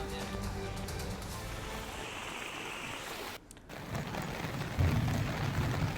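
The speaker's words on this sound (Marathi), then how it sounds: "मागच्या 24 तासांपासून अमरावतीत सुद्धा मुसळधार पाऊस सुरू आहे" Heavy monsoon rain in Amravati, a steady broadband wash of downpour with a brief dip midway, continuous and fairly distant.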